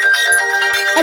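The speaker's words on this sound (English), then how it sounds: "Have you got the ringtones there, Lucy?" A phone ringtone plays loud and close, a bright sustained electronic melody with even, repeating pulses across one short second, no voices.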